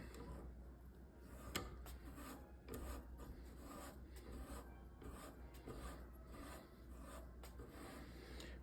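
Soft, steady rasping from abrasive polishing the forcing cone of a Smith & Wesson Victory revolver, a faint continuous rubbing with light scraping strokes throughout.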